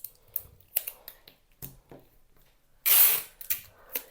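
Adhesive tape pulled and pressed down to hold cardstock in place on a craft project: small crackling rips and handling taps, then one louder, longer tearing burst near the end, close and otherwise quiet.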